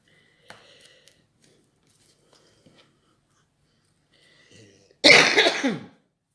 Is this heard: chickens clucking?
no